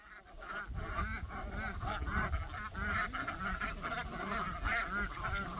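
A flock of ducks near a pond quacks and honks continuously and fairly loudly in dense, overlapping calls, with no talk over them.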